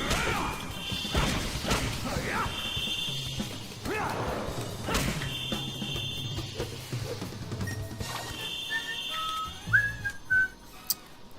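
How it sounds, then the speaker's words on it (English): A person whistles a tune along with video game battle music, the steady whistled notes running over a mix of game crashes, thuds and whooshes from play. "Listen to me whistling to the battle music."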